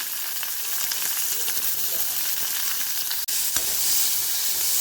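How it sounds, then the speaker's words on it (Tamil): Onion, green chilli, crushed garlic and curry leaves sautéing in a pan for tomato thokku, giving a loud continuous frying hiss with faint stirring scrapes throughout and one brief dip near the end. "வெங்காயம் ரொம்ப வதங்கணும்னு அவசியம் இல்லை கொஞ்சமாக வதங்கினா போதும்"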